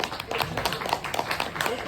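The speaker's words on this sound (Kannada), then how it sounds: "ಒಂದ್ಸತಿ ಜೋರ್ ಚಪ್ಪಾಳೆ ಅವ್ರಿಗೆ" An event audience bursts into lively clapping for actress Harshika Poonaccha, rapid overlapping claps with voices talking over them.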